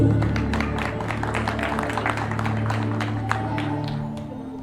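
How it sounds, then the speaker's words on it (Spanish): Audience applause at a promotion ceremony in Huayllay, a steady patter of many hands clapping close by for several seconds before easing off slightly at the end. "Le recibimos con un fuerte voto de aplausos."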